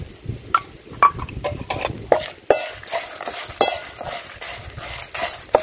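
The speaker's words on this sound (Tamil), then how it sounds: "இது எல்லாத்தையும் நல்லா வறுத்து எடுத்துக்கலாங்க" Black pepper, cumin, cinnamon, cloves, dried red chillies and coriander are dry-roasted in a pan for village-style Kongunadu chicken kuzhambu. A utensil scrapes and stirs steadily, with frequent clinks and a faint sizzle.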